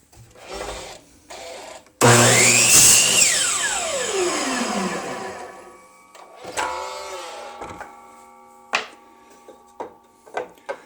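A braking-blade power saw spins up and cuts through a wooden pen blank, a loud two-to-three-second cutting burst whose whine then winds down as the blade brakes, followed by scattered clicks and knocks.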